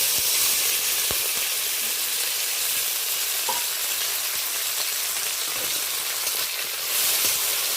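Chopped onion and tomato fry in hot oil with tempered spices for a Bengali potol and prawn dish, giving a steady, close, dense sizzle and hiss with occasional faint stirring clicks.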